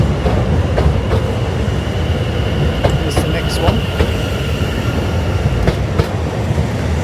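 A Class 455 electric multiple unit arrives at London Waterloo, a steady loud rumble of wheels on rail with repeated clicks and faint squeals as it rolls in, continuous throughout.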